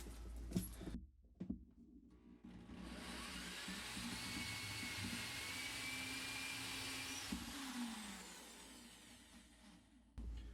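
A power drill bores into a drywall wall for anchors while a toilet paper holder is being mounted. A few knocks come first, then one sustained, high whining drill run of about seven seconds, close and alone, that winds down at the end.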